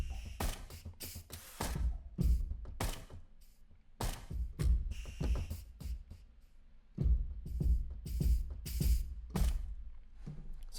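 A Bustaman drum groove from the Sonuscore Trinity Drums library plays back alone, with steady punchy hits, low thumps and bright percussive accents repeating in a smooth, relaxed pattern.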